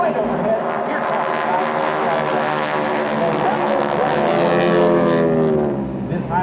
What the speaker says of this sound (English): with all 5 other aircraft coming right overhead